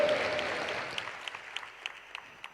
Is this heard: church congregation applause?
yes